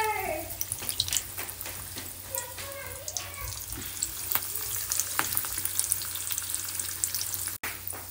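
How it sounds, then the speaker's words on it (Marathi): Fenugreek pakoras deep fry in oil over a medium flame, a dense, steady crackling bubble that carries on without a break, close and fairly loud. "तर अशा पद्धतीने आपले हे फ्राय होतात"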